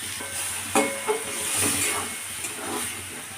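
Mushroom curry with salt, turmeric, sugar and chilli powder sautéing in a pan, a steady close sizzle with a few scraping stirs and light clanks, no voices.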